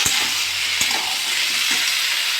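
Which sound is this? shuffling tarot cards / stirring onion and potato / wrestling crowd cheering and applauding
stirring onion and potato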